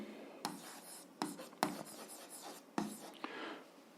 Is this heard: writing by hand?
yes